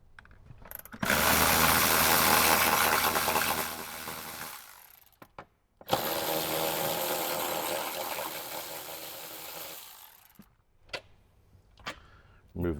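A hand ratchet cranks out the 14mm seat bolts in a Toyota Tacoma, two long runs of close, fast clicking separated by a short pause, then a few scattered knocks.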